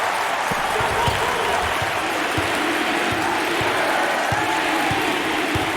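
A home crowd of students in a college basketball arena in NCAA March Madness 08 roars continuously, a loud, dense wall of cheering and clapping with occasional thumps and speech faintly underneath.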